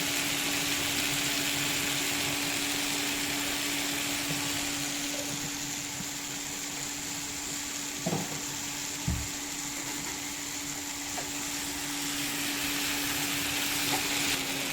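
Mezhukkupuratti, a Kerala vegetable stir-fry with green chilli and a sprinkle of chilli powder, frying steadily in a pan with a continuous soft sizzle and a couple of faint utensil knocks.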